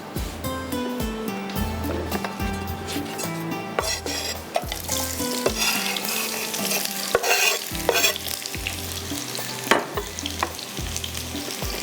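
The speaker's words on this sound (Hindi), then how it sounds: "अब इसके अंदर जाएगा यहाँ पर प्याज" Onions frying in a pot for handi gosht, with a sizzle and stirring scrapes running beneath loud rhythmic background music, with no speech.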